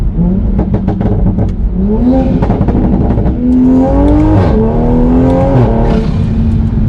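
An A90 Toyota Supra engine revs loudly and up close, its pitch climbing and dropping through several gear changes in a continuous, throaty roar.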